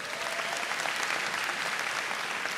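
Audience applause at the Aiken Technical College spring graduation ceremony honoring alumni: a steady wash of many hands clapping, moderately distant, continuous to the end.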